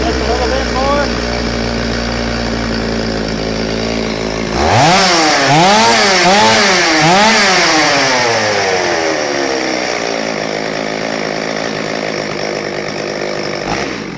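A Stihl 025 chainsaw with clogged carburetor jets idles, then revs up and down several times in loud rising and falling bursts before settling back to a steady idle, close by.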